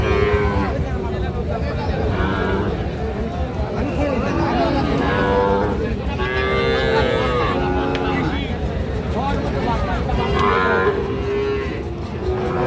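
Sahiwal bull calves moo repeatedly at a busy cattle market, several loud calls rising over a constant din of crowd chatter and nearby voices.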